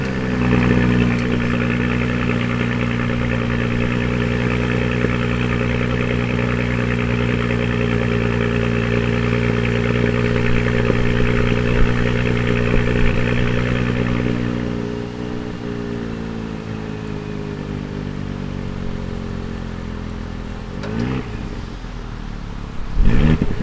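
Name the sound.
Audi SQ5 3-liter turbocharged V6 engine running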